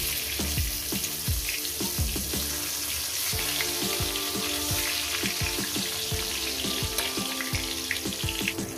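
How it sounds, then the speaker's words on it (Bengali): Eggplant slices fry in hot oil for begun bharta, a dense, steady sizzle with scattered crackles and pops that runs close and continuous the whole time, with no talk. "বেগুনগুলো আমি ভেজে নেব, এক এক করে ভেজে তুলে নেব।"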